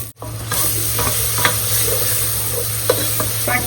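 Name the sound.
stirring and frying masala with wooden spoon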